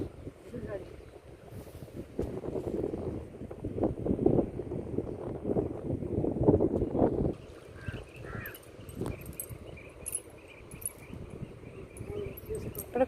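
Strong wind gusting outdoors beside a canal during tilapia net fishing, a steady rumbling buffet on the microphone that swells and eases, with faint voices in the background.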